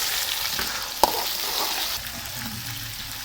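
Cumin, bay leaf and other whole spices sizzle in hot oil as a continuous loud crackling hiss, with one sharp pop near the start.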